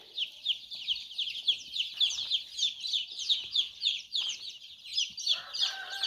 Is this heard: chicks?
yes